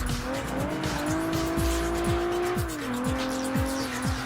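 Nissan GT-R concept car racing in Project Gotham Racing 3, a steady high engine whine under load with tire squeal and rhythmic repeated thumps from the track, continuous and close.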